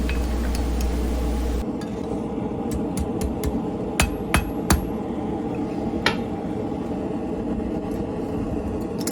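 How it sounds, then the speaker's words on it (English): Several sharp metallic ball peen hammer strikes on flat metal stock being shaped into a spoon ring out at irregular intervals, close and clear, over a steady background hum. "Ball peen hammer inside of an indentation is the best way to make a spoon"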